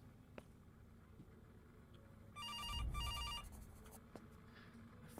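A telephone rings in a psychological thriller video game, a short burst of repeated electronic trills heard alone over a quiet background rumble.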